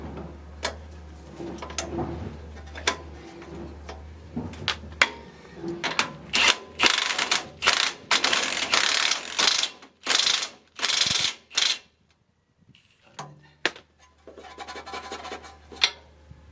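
Ratchet wrench tightening bolts on the front strut of a 2003 Toyota 4Runner, sharp rapid clicking in bursts, with a brief pause before a few more quieter clicks near the end.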